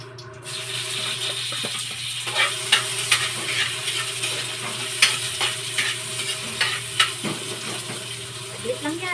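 Bihon noodles stir-fried in a pan, with a steady sizzle under repeated scraping and clacking strokes of a spatula at an irregular rhythm, close up and moderately loud.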